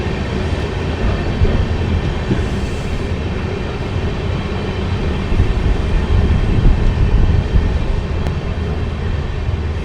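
The Amritsar-Bikaner Super Fast Express pulls out of Ferozepur City station, a loud, steady rumble of rolling wheels and rail noise heard close, continuous throughout with no voices.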